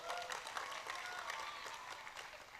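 An audience claps for a performer introduced on stage at an evening gathering, a brief burst of quick, scattered hand claps, moderately close and fading slightly toward the end.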